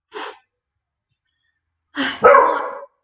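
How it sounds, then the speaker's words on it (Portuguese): A dog gives a short, sharp bark, a pause of quiet, then a louder, rougher bark nearby, both abrupt bursts in an otherwise silent room. "Agora o cachorro latindo."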